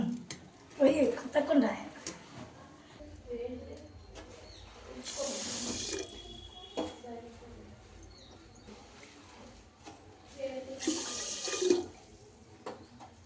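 Water poured over rice into a new bonam pot, heard as two short splashing pours a few seconds apart with quieter handling sounds and soft clatter between them.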